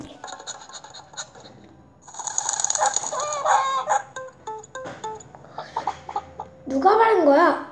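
Chickens cluck and squawk in short bursts close by, mixed with people talking over them.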